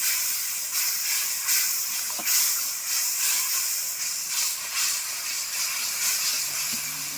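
A little water splashed onto spice masala frying for a chicken curry, releasing a loud, steady hiss of steam that rises and falls in soft waves, close by, with no talk.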